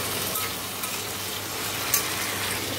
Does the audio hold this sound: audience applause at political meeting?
no